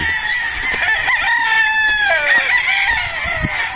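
Battle stag roosters on a gamefowl farm crow loudly and close, one long drawn-out crow overlapping others in a continuous chorus, over a steady high hiss with no talk.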